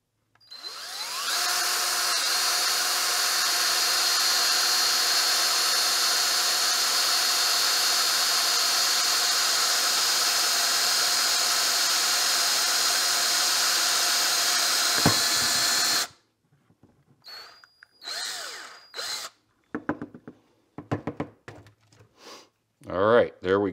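Power drill boring a half-inch hole, a loud, steady whining hum held for about fifteen seconds, then stopping abruptly, followed by scattered handling knocks and brief sounds.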